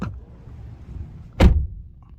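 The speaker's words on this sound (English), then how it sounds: "Let's listen to that door." The rear door of a 2014 Nissan Sentra S shuts with a single solid thud, close by and brief, after a quiet moment.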